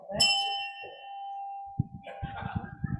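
A single bright bell strike rings out at a service club meeting celebrating a hole-in-one, its tone sustaining and slowly fading, followed by a few close knocks and brief murmuring.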